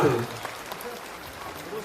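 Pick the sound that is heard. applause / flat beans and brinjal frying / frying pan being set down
applause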